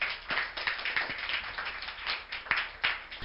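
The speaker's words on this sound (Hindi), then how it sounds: "मैं चाहता हूँ कि आप लोग तालियों से इनका इस्तकबाल करें।" An audience claps to welcome guests at a career counselling session, a steady, moderately loud patter of many hands with a few sharper individual claps standing out.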